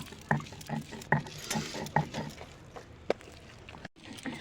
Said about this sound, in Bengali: এইভাবে ডালটা ডলে ডলে ফেনিয়ে নেব।